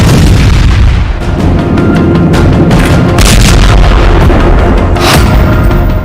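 Israeli 2300 kg bunker buster bomb strikes hitting a building in Beirut, a loud rolling roar with deep rumbling booms and sharp cracking bursts that never let up.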